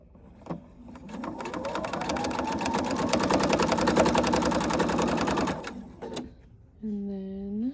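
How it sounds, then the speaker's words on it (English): A sewing machine runs in one steady burst of rapid stitching for about five seconds, top stitching a D-ring pocket on a small wallet, then stops. A short voice follows. "On the D-ring pocket, I'm going to top stitch to get everything closed"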